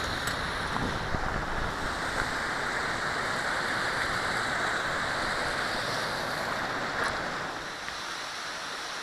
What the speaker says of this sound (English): here's Snow Creek running down the mountain